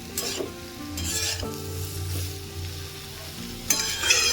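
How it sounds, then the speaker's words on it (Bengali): Mustard spice paste frying in a pan for a Bengali bitter rosha, a close continuous sizzle with bursts of scraping stir strokes near the start, middle and end. "মশলাটা অল্প একটু কষে নিতে হবে যেহেতু মশলাটাই সরিষা দেওয়া আছে"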